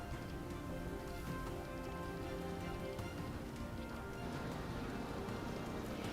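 Heavy torrential rain falls steadily in Puerto Rico, a dense, continuous hiss of drops striking surfaces with no pauses.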